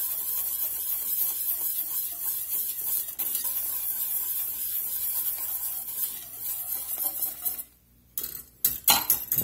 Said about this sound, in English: I'll go ahead and start whisking these grits in.